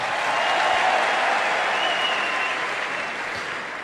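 Sustained audience applause at a Los Angeles ceremony with Prime Minister Abiy Ahmed, a steady dense wash of many hands clapping that fades slightly toward the end, with faint crowd noise mixed in.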